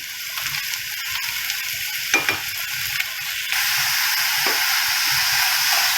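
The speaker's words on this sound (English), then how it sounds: "just fry these onions" Finely chopped onions fry in a pan over medium-high heat, a steady close sizzle with a few scraping stirs, the hiss growing louder and denser partway through.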